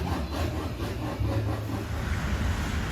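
A steady low rumble and rattling clatter of model trains running continuously, with no one talking.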